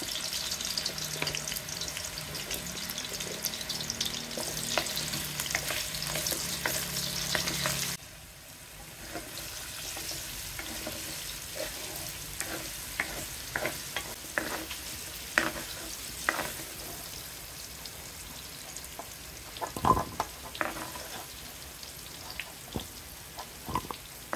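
Oil sizzles steadily as potatoes fry for pork rib kaldereta, with a louder burst of hissing at first, then settling into crackles and occasional pops and clatters.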